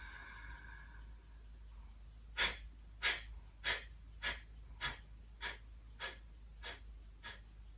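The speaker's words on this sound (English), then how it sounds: "Take a breath in, breathe into the palms of your hands." Deep, slow breaths during a yoga breathing exercise, about nine evenly spaced breath sounds, close and soft against a quiet room with a low steady hum.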